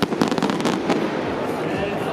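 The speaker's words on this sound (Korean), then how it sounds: "사람들 폭죽이 터지면서 10km 출발을 알리고 있는데요" Fireworks burst at the start of a 10km charity fun run in Seoul with a rapid crackling volley of loud pops that thins into a sizzling hiss, with a crowd audible underneath.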